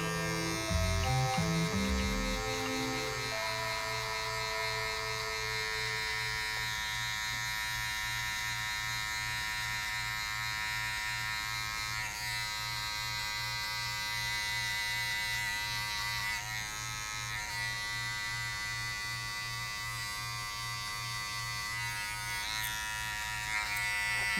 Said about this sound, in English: You wanna hear the clipper cutting.